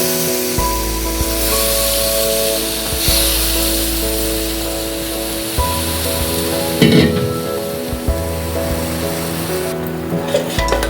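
Street-style rava dosa batter frying in a generous amount of oil on a hot pan, giving a loud, continuous hissing sizzle with occasional scraping and spatter bursts near the end.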